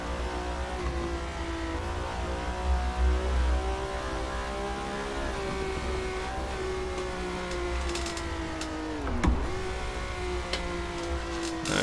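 Ferrari 330 P4 V12 race car in Assetto Corsa, driving slowly on cold vintage tires: a steady, smooth multi-harmonic engine drone that holds its pitch, dips briefly, then begins to climb.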